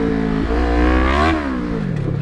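A Kawasaki KLE500 motorcycle engine revs close by, its tone climbing to a peak and then easing back down over about two seconds, loud and alone.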